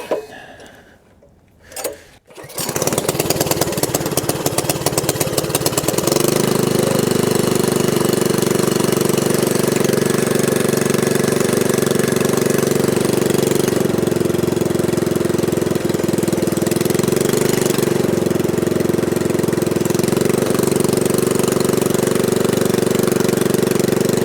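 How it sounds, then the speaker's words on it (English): A small Predator 224 engine on a Megamoto 212 minibike starts after a few brief rough bursts, then settles into a loud, steady, close idle with a faint knocking rhythm that runs on alone. "Coming down to the idle. And I'd like that idle just to be a little lower."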